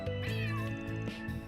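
Cat in the Trails through Daybreak video game giving a few clear, close meows in quick succession, drawn-out and tonal, with nothing else over them.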